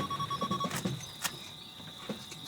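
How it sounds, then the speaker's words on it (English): A lion tracking collar receiver on the African savannah gives short, faint electronic beeps, a regular pulsing tone that stops partway through, over soft outdoor ambience with insect-like chirps. "Shaun captures the beeps of the tracking collar"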